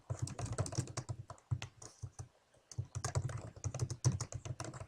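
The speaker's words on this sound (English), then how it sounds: "So, I'm going to type just an example." Rapid typing on a computer keyboard, close and crisp, with dense bursts of key clicks and a short pause in the middle before the typing resumes.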